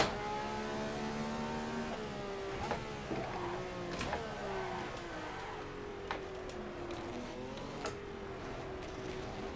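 A Ferrari 312 race car in a historic racing sim revs and shifts through a corner, its sustained engine tone rising and falling with throttle over steady mid-level drone, alone with no talk.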